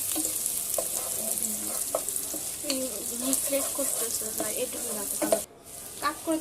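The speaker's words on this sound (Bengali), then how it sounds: "আর এটাকেও আমি একটু সামান্য সময় ধরে একটু ভেজে নিব" Capsicum strips fry briefly in a hot pan for chilli chicken noodles, giving a strong, steady close sizzle with scraping stirs, then a sudden drop near the end before it resumes.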